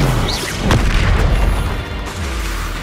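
A Descendo spell striking in Hogwarts Legacy, a loud, close, deep boom with a crashing burst near the start that rumbles on and fades over a few seconds.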